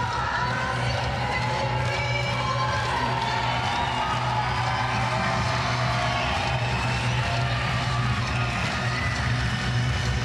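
Arena crowd at the Paris 2024 Paralympics boccia mixed pairs BC4 semi-final, a steady, dense roar of cheering and murmuring spectators filling the hall throughout, with no clear breaks.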